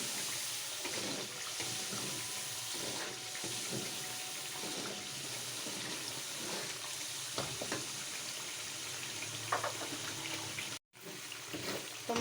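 Spice masala with turmeric powder and salt fries in a pan for an aloo baigan dish, giving a steady, faint broadband sizzle and crackle with scattered stirring clatters, alone without talk, and a brief dropout near the end.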